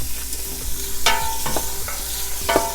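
Pork meat and pork cubes sizzle steadily in a hot pan, with clinks and scrapes of stirring over the continuous frying hiss.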